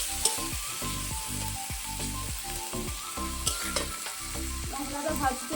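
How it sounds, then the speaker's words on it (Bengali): Spice masala with dried red chili powder and turmeric powder is fried and stirred in a village kitchen pan, a close, steady sizzle broken by a repeated rhythmic scraping of the spoon against the pan. "দিয়ে দেবো শুকনো লঙ্কার গুঁড়ো, দিয়ে দেবো হলুদের গুঁড়ো, দিয়ে মশলাটাকে ভালো করে ভেজে নেব"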